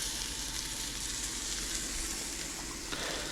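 Rice wine vinegar sizzles in a hot pan while arroz con pollo cooks, a steady close frying hiss that holds evenly throughout with no talk over it.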